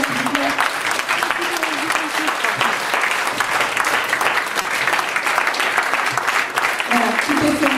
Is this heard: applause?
yes